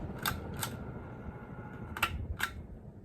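A 48-inch brown Banvil Chateau ceiling fan is switched off: four crisp, close switch clicks come in two pairs over a low, steady background hum, with no talk.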